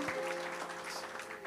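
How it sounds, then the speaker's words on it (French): Audience applause at a church event, a steady wash of clapping from a crowd with faint voices mixed in, sustained at moderate level for a brief moment. "Est-ce qu'on peut l'acclamer, les amis?"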